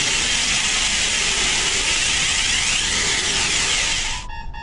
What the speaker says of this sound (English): the gas is discharged to the room and controls the fire